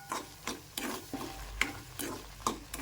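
Milk and sugar mixture for kalakand, made from split milk, stirred in a pan with regular scraping strokes about every half second, soft and close.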